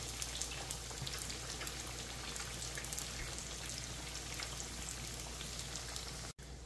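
Pulled pork eggrolls frying in hot oil give off a loud, dense, continuous crackling sizzle like heavy rain, close up and unbroken apart from a brief dropout near the end.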